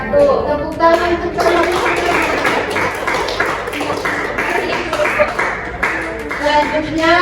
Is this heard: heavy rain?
no